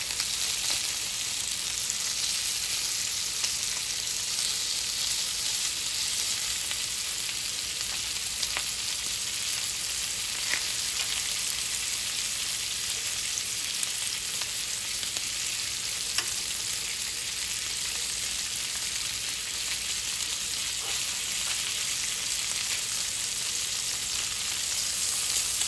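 Sausages fry in a pan, giving a continuous, close, even sizzle with faint pops and spatters, heard alone without any voices.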